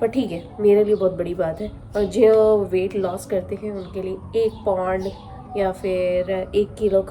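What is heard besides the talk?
No everyday noise stands out behind the speech.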